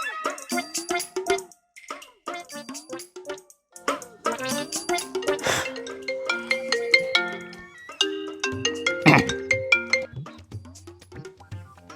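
A mobile phone ringtone plays as a call goes out to a broker in a comedy sketch, its bright melodic tones repeating steadily and fairly loud for the whole stretch with no talk over it.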